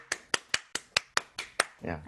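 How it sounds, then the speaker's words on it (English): Clapping over a Zoom call for a play performed online, eight or so evenly spaced sharp claps in quick steady rhythm, close and dry, ending in a brief voiced sound. "those are claps for you"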